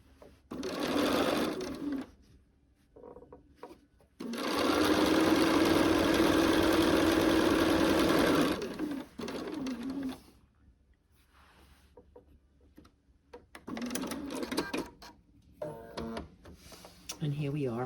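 A sewing machine stitches quilted blanket block pieces together in one long steady whirring run, preceded and followed by short bursts, with a person talking between runs.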